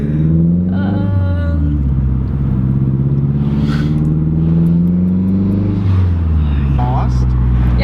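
A Mazdaspeed3's exhaust drones loudly and steadily with a slight rise and fall in pitch, close by, while people talk over it.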